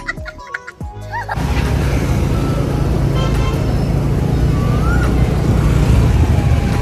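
A two-wheeler ridden through road traffic: after a short stretch of quieter sounds, a loud, steady rush of wind and engine takes over, with traffic noise around it and a faint horn.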